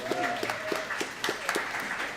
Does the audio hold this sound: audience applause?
yes